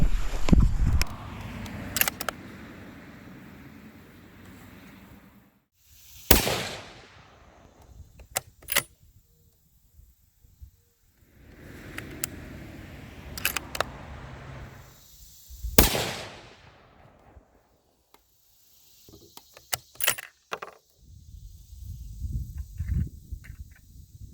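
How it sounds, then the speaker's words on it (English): A rifle chambered in 6.5 PRC fires 120-grain Speer Hot-Cor rounds at a range. Several sharp, loud shots are spaced several seconds apart, with quieter handling noises and ambient rustle between them. "getting some rounds down range, and seeing potentially what I think it can do."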